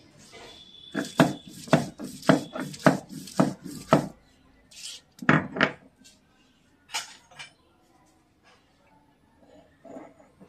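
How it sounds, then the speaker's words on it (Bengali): Mustard seeds ground on a stone grinding slab, with a quick series of rhythmic, close knocking strokes that then thin out into a few scattered scrapes and taps. "শিলটাতেই একটুখানি আর সর্ষেটা বাটি"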